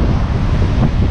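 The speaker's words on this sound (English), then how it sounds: "the breeze is strong, but the water not so bad enough" A strong evening sea breeze buffets the microphone at the shoreline during evening fishing, a loud, steady roar of wind rumble with surf washing beneath it, continuous for the whole moment with no voices.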